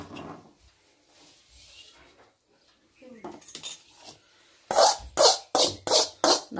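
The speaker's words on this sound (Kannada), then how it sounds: "ನಾನು ಮೆಣಸಿನ್ಕಾಯಿನ ಹುರಿದಿದ್ದೆ, ಅದು ಕಡಾಯಿ ಒಳಗೆ ಒಗ್ಗರಣೆ ಹಾಕ್ಕೊಂಡೆ" A kadai clatters as chillies are tempered in it, with sharp metal pan and utensil knocks that start sparse and turn into a loud rhythmic run of strikes near the end, with faint talk earlier.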